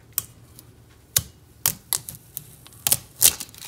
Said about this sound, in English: And then peel off her tape.